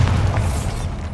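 A Bombarda blasting spell goes off in Hogwarts Legacy, a loud, dense low boom with a crackling rumble that fills the whole short moment without a break.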